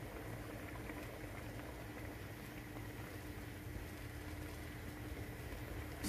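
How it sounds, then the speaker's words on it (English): Red lentil and chana dhal curry with kasuri methi bubbling and simmering in a pot, a faint, continuous low burble with soft irregular pops, steady throughout and with no voices. "let it boil, and then I'll let it simmer for about 15 minutes"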